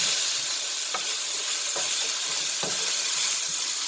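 Mongolian pork stir-frying over high heat after a splash of cherry wine, a loud, even hiss of sizzling with a few light spatula scrapes spaced through it.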